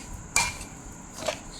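A spoon clinks twice against the pan while milk is stirred into rava laddu mixture, a sharp scrape followed by a softer one about a second later.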